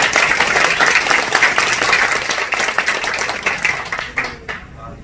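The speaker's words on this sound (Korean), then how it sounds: "큰 박수로" An audience at a political party founding assembly in an indoor hall breaks into loud, dense applause that runs steadily and then thins out near the end, with no voices over it.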